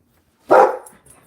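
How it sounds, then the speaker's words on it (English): A single sharp dog bark, close and loud, followed by a faint trailing yip. "nobody wants to hear you barking"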